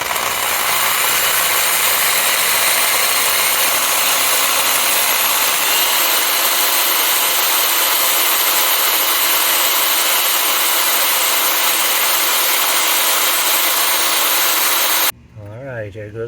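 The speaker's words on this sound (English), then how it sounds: "I'm going to improve my method by drilling a pilot hole with this small one" A small pilot bit drilling steadily through a hot tub cover lifter part during installation, a loud continuous grinding whine lasting about fifteen seconds before cutting off abruptly.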